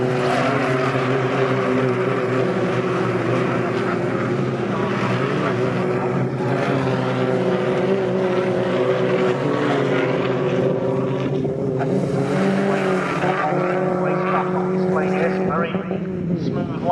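Junior saloon racing cars roar past on the Snetterton circuit, a continuous loud engine drone rising and falling as they pass, with a commentator talking over the noise throughout.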